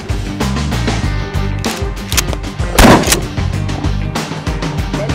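Shotgun loaded over the ejection port and fired during a combat shotgun drill, with rapid metallic handling clicks and clacks leading into one loud, sharp gunshot near the middle, followed by more racking and loading sounds.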